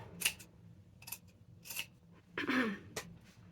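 Scissors snip through paper for a paper bag junk journal, giving several short, crisp cuts spread out in an uneven rhythm, close and fairly quiet, over a soft low background hum.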